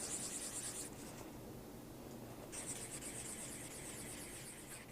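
An ebony peg is rubbed with a 1000 grit abrasive pad, giving a faint, close, hissing scratch in short back-and-forth strokes with a brief pause in the middle.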